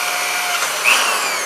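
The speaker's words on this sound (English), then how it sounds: "Okay, drill that through." A power drill bores through a metal pipe held in a jaw horse, where a pilot hole had already been started, making a loud, steady whirring grind that swells briefly partway through.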